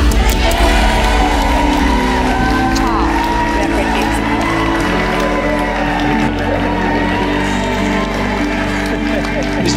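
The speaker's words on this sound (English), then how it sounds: "You can all clap." Wedding guests at Priestfield Stadium, Gillingham, clap and cheer after the kiss, a dense, loud, sustained wash of applause and whoops from a crowd close around, with voices mixed in.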